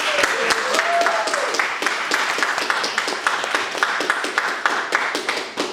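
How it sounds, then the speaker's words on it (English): Audience applause at a New York film festival Q&A: a steady patter of many clapping hands runs throughout, with voices mixed in over the clapping. "Round of applause for them."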